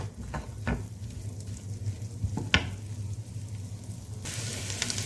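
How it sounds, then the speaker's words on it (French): A small chopped onion cooks in a pan for stuffed cabbage rolls with bulgur, giving a steady close sizzle with a few stirring scrapes and a brighter burst of frying near the end. "J'ajoute un petit oignon que j'ai coupé en petits morceaux. Je fais cuire l'oignon."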